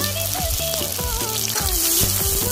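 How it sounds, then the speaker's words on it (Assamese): Onions tipped into hot oil sizzle steadily with a bright, crackling fry that carries on without a break. Close and moderately loud, with no voices over it. "তেলখিনি গৰম হৈ আহিলে এতিয়া মই ইয়াতে পিয়াজখিনি দি দিম"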